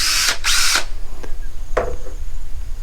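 A variable-speed hammer drill in a garage workshop revs in two short loud bursts, then gives a quick softer blip and a brief trigger pull, with a slight rattle between bursts and no talk.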